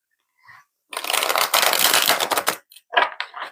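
A deck of tarot cards is shuffled close up in a couple of quick riffling bursts, with crisp rapid flutters separated by brief pauses and no talk.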